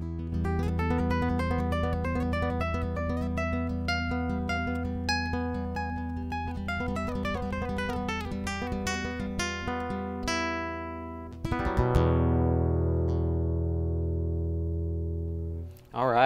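A Cort Gold OC8 nylon-string guitar heard only through its under-saddle transducer, playing a continuous fingerpicked passage of ringing plucked notes that ends in a loud sustained chord and fades, with no talking.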